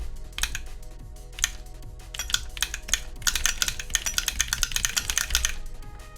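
Fast, clacky typing close by on a keyboard modified to be extra loud, bursts of sharp keystrokes that grow denser and louder toward the end.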